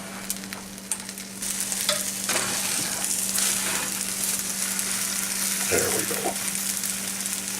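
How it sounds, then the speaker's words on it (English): A cheese omelette sizzles and fries steadily in a pan, with a few stirring scrapes and a soft thump as it is flipped; a voice speaks briefly near the start. "Then I'm going to try and flip it over into an omelet."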